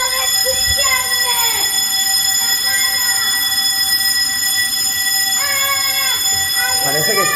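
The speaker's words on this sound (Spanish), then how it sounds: "Parece que está sonando la alarma de emergencia." Building emergency alarm rings steadily and loudly, a continuous high electronic tone with repeating bell-like pulses, filling the space with no speech over it.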